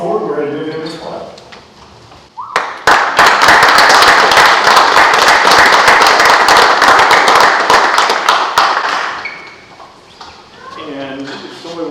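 A room full of people at a high school hall of fame ceremony breaks into loud sustained applause for an honoree, about six seconds of clapping, with talking before and after.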